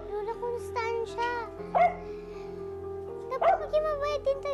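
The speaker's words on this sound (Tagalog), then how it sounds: "bakit ka ba tahol ng tahol?" A dog barking indoors, a short yappy pair of barks rising amid a busy tonal music-and-voice mix, then another bark burst later; speech-like sounds run throughout.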